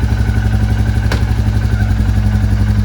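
A Royal Enfield Classic motorcycle with a chain or brake noise problem runs in first gear on its double stand, a steady close thumping engine beat with one brief metallic clack.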